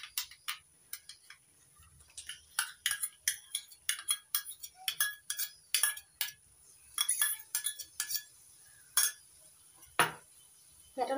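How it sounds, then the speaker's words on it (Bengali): A spoon stirs beaten yogurt into a katla fish curry in a pan, making an uneven run of sharp metallic clinks and taps, close and fairly crisp, with no talking. "এবার নাড়াচাড়া করতে থাকবো। ভালো করে নাড়াচাড়া করে মিশিয়ে নেব।"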